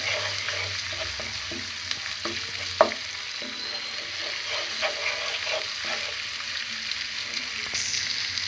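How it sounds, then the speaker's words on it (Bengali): Ginger paste, garlic paste and turmeric sizzle in a pan as the spice base for a duck curry, a close, steady frying hiss broken by occasional sharp taps and scrapes of a spoon. "প্রথমে একটি প্যানে আমি আদা বাটা, রসুন বাটা, হলুদ গুঁড়ো দিয়ে ভালো করে মশলাটাকে কষিয়ে নিব"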